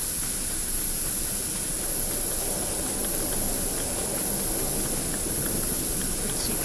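A steady, loud hiss of bear spray discharging in the survival horror game Fears to Fathom: Ironbark Lookout, continuing without a break and with no talk over it.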